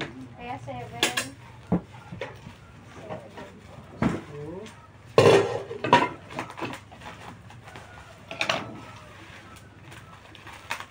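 Metal pot lid from a newly unboxed cooking pot handled and set down, sharp ringing clinks and clanks scattered among lively talk, with one louder clatter midway.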